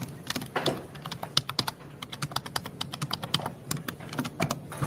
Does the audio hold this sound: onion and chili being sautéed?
no